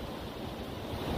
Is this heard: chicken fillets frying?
no